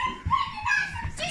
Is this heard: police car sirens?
no